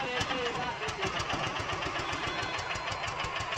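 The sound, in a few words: vehicle engine idling and vibrating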